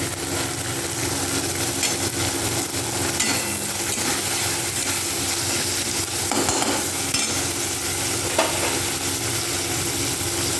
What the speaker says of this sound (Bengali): সমস্তটাকে পেঁয়াজের সাথে ভাজবো।